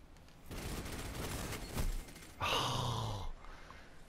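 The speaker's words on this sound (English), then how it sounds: "My hammerhead gets better as it fires longer, so I waste a lot of bullets with my hammerhead." A Hammerhead machine gun in a video game fires a faint, continuous stream of rapid shots for a couple of seconds, followed by a brief tonal sweep and quieter game sounds.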